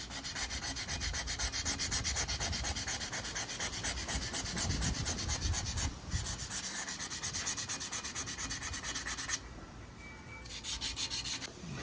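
A welded metal coolant reservoir for a 1967 Firebird is hand-sanded to a brushed finish, giving a continuous close rasping scrub with rapid back-and-forth strokes, briefly pausing and softening near the end.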